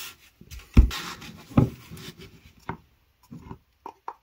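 A wooden knife handle is sanded by hand in a few separate, scratchy rubbing strokes, with quiet pauses between them. The sound is close and fairly soft.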